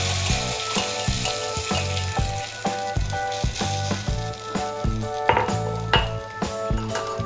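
Onion fries in oil in a cast iron pan, making a continuous close sizzle, with a pulsing tonal backing and a few light metallic clinks.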